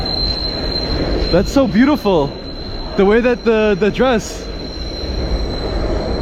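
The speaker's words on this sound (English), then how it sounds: "There goes the subway." Subway train running beneath a city street, its wheels letting out a steady high squeal through the whole stretch, with steam rising nearby; people talk over it in the middle.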